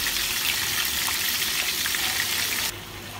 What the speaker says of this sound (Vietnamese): Rồi cho con cá lóc vào. Chúng ta chiên sơ lên.